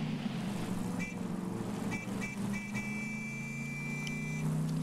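A vehicle horn in the video game Borderlands 3 honks in several short, evenly spaced toots over a steady low engine drone, without talking.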